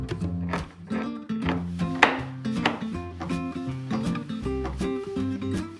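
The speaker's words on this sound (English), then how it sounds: "Let's cut dark chocolate into little pieces." A knife chops dark chocolate repeatedly on a cutting board, quick uneven thuds and taps over music playing in the background.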